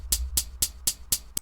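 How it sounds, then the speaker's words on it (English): Six crisp, bright hi-hat ticks from an indie pop rock sample in FL Studio 21, in a quick, even rhythm, fairly quiet and alone. "I have this hi-hat as well,"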